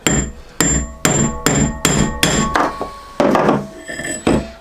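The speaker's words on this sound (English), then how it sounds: "So I'm going to use the old bearing and a fork stanchion and a big hammer." Heavy hammer blows on metal as an old bearing and fork stanchion drive a head bearing into a Triumph T140V Bonneville frame, about ten loud ringing impacts at a steady, slightly uneven pace, close up with no talking.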